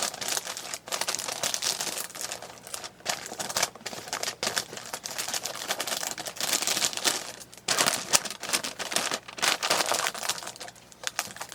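Packing paper crumpled and crinkled by hand while wrapping shoes for shipping, a steady close rustle with brief pauses and no talk.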